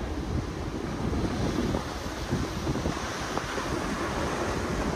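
Ocean waves break on a shore in Colombia, a dense, continuous wash of surf with wind buffeting the microphone, loud and steady throughout with no voices.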